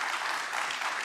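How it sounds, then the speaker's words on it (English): Applause from a conference audience as panelists leave the stage at a national transport conference, an even, dense wash of many hands clapping, steady and fairly close throughout the brief moment. "another round of applause for the panelists that have just exited the stage"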